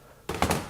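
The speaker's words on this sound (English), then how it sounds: "Sorry about throwing my socket." A Gearwrench Bolt Biter extraction socket is tossed down and lands with a dull thunk, followed by a short second knock, brief and close.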